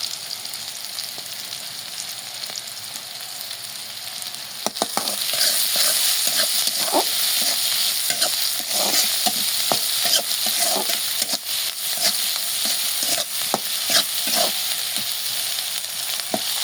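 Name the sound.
onion and chilli frying in oil in a pan, stirring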